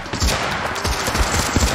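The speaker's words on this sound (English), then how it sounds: "I'm firing like mad, but the zombies are killing me" Rapid, continuous gunfire in a zombie campaign video game, a dense stream of quick shots at moderate loudness with no talk over it.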